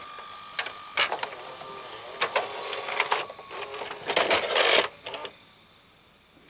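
A VHS video recorder ejects a tape with a series of mechanical clicks, whirs and clunks, heard close and fairly clear against a quiet background.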